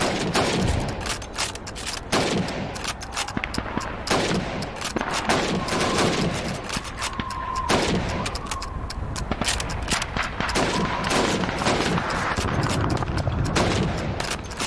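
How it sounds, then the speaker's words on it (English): Rifle shots fired at helmets in a Call of Duty 2 training course, a steady stream of loud sharp reports and impacts continuing throughout under a busy game soundscape, no speech. "Now, let's see how well you can do under pressure. You have 15 seconds to shoot the helmets."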